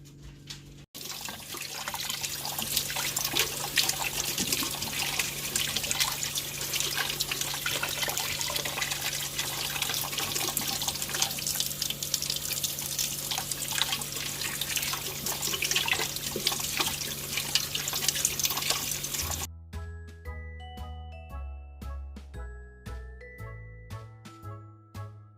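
Eggs are washed under a running kitchen tap, a steady close rush and splash of water lasting about nineteen seconds, followed by a short bright musical jingle.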